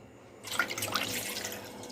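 Water poured into a cooking pot while making rice papad dough, starting after a brief silence and then running as a steady, splashing trickle close to the microphone.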